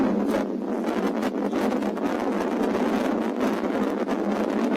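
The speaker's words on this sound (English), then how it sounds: "it is a chilly, windy night" Steady wind gusting across the microphone on a chilly night outdoors, a continuous broad rushing roar with no pauses, fairly loud and close, without speech.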